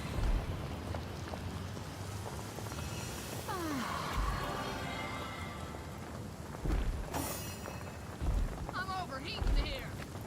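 Spell-summoned rain in the video game Divinity: Original Sin hisses steadily and broadly, with a few dull thumps and sharp effect sounds layered on top.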